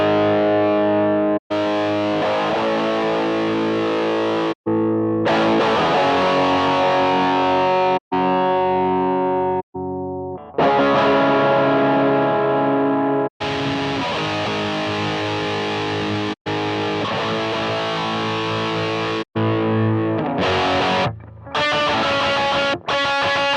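Distorted electric guitar run through a Quad Cortex factory neural capture of an Orange amp: loud, crunchy chords ring out in bursts separated by brief stops, sustained and close, with no talking.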